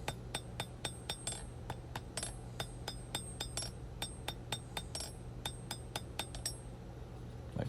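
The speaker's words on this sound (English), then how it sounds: "Just forge welding the cutting edge on." Hammer blows on high carbon steel being forge welded onto a knife blade's cutting edge, ringing metallic strikes in a steady rapid rhythm, each sharp and clear over a constant low forge roar, close and moderately loud.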